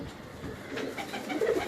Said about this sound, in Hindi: ये उस्ताद खान रेहान खान के ब्रीडर कबूतर हैं सारे जी